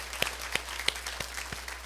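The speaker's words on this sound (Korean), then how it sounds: "하나님께 박수를 영광." A congregation at a Korean church festival worship service claps in a steady, rhythmic beat, about three claps a second, over a low constant hum.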